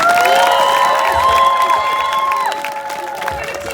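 A crowd at a pro-Palestinian protest at Leeds University applauds and cheers, with sustained clapping and high whoops and shouts layered together, loud and lively before tapering off slightly.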